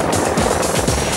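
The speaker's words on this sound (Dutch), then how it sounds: "de rondtollende rotors van de heli veroorzaken flinke windvlagen" A search-and-rescue helicopter hovers low over a village crowd in Garijp, 1998, to lift the rooster weathervane from a church tower, its spinning rotors producing a loud, steady, pulsing roar that fills the scene with no voices.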